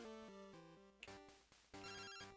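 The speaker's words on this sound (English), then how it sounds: "Oh, getting a phone call." Phone call ringtone in the video game Pokemon Crystal plays as a chiptune melody of stepped electronic tones, repeating in short phrases, clear and alone.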